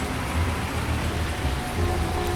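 Steady rain falling on a rainy day around a CAT 323GC excavator, a dense, even hiss of rain with a low rumble beneath it, continuous and close.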